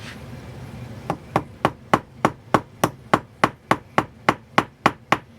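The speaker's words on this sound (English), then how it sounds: "I'm going to take a ball peen hammer and using the round side" Steady metallic taps from the round side of a ball peen hammer striking a rivet, about sixteen evenly spaced strikes after a quiet second, sharp and close, with no talking.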